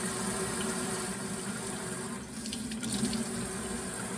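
Lukewarm tap water runs steadily from a faucet into a sink, a continuous close splashing stream with no talk over it.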